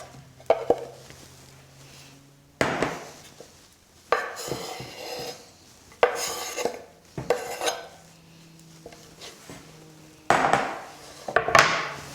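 Chopped cucumber dropped into a bowl for quinoa tabouli, a series of sharp clattering knocks and scrapes against the dish spaced out over time, close and clear.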